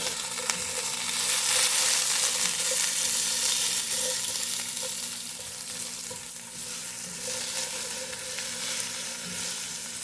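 Onions, with red onion, sizzle in a covered pan for a Filipino mung bean stew, a steady, fairly soft crackling hiss with small pops, no talk.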